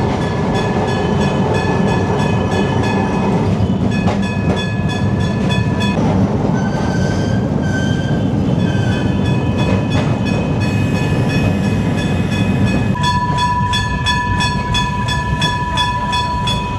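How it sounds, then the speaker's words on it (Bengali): A Kolkata tram runs along its line past Chandni Market, giving a loud, steady rumble of wheels on rail with rhythmic clatter and several sustained horn-like tones over busy street noise, with no talking. "আমাদের ট্রাম এখন ক্রস করছে চাঁদনি মার্কেট।"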